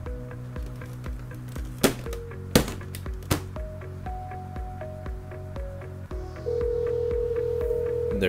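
An IoT system automatically places a phone call, with a steady ringback or dial tone and repeated short clicks, a few sharp knocks partway through, then a louder sustained tone at the end.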